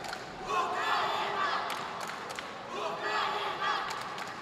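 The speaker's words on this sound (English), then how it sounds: "Heard a lot of crowd cheer." Crowd cheering in an arena during a wushu sanda bout at a world championship: a broad, steady roar of many voices rising and falling in two swells, moderately distant, with scattered sharp thuds from the match.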